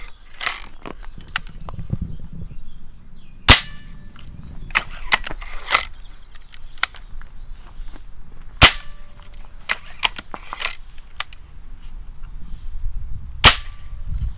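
A Hatsan Speedfire Vortex gas-ram air rifle fires several sharp, clean snaps spaced a few seconds apart, each punctuating quieter mechanical clicks of cocking and safety handling, with no voices.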